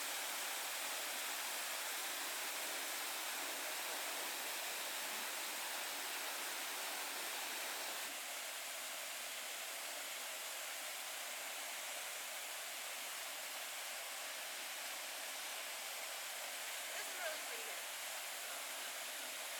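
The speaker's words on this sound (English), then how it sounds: "We're at Virgin Creek Falls." Virgin Creek Falls, a waterfall in snowy Alaskan wilderness, roars as a steady, dense wash of rushing water that stays constant and fairly close for the whole stretch, with no talking over it.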